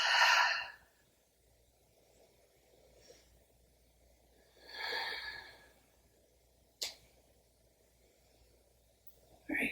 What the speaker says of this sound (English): two more big breath cycles here, deep inhales